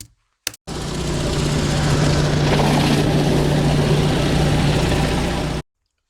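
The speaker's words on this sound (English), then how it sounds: "now we're just going to go to the border and surface clean the spots where we just turbo nozzled" A pressure washer's surface cleaner runs over pavers along a property border, a loud steady mechanical whine with a strong constant hum that starts abruptly and holds for about five seconds before cutting off.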